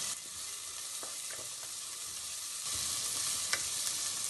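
Sliced onions fry in hot oil with cilantro and chopped mint for sprouted moong pulao, a dense close hiss of sizzling with a few stirring scrapes, growing louder midway.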